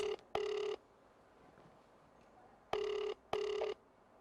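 Ringback tone of a telephone call being placed, two pairs of short double rings separated by a long quiet pause, clear and moderately loud with no talking.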